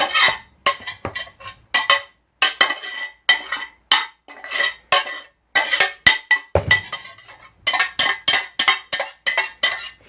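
A vegetable mixture is scraped from a pot into a mixing bowl, giving a rapid series of distinct scraping and clinking strokes of a utensil against cookware, close and fairly loud, with brief pauses between them.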